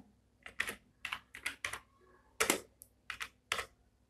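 Keys tapped on a computer keyboard while entering a name, about a dozen quick clicks in short irregular bursts, close and fairly quiet, no speech.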